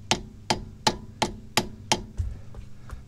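Six sharp metallic hammer blows ring out at an even pace against a stuck front CV axle on a Honda Ridgeline, close and loud, followed by softer shuffling and light knocks as the axle is turned.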